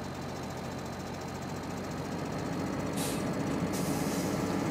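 Tractor engine in Farming Simulator 2013 running at a steady, constant drone throughout, fairly loud and close, with no other sounds over it.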